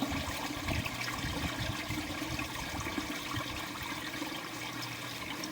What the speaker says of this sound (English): It almost sounded like there was a big rush of water come out at once, almost like a pump discharge or something.